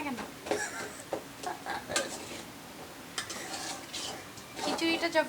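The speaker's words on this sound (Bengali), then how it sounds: "এটাকে আমি কড়াইয়ে গরম করে দিচ্ছি" Leftover khichuri is reheated in a wok, with soft intermittent scraping and clinking as a spoon stirs and breaks up hardened grains, a faint sizzle beneath and talk throughout.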